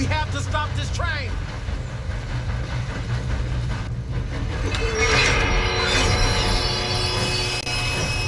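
A train rolls along rails in the Western video game Red Dead Redemption 2, with loud steady rumbling, brief wheel squeals and metallic clatter throughout, mixed with other game noises and a brief shout.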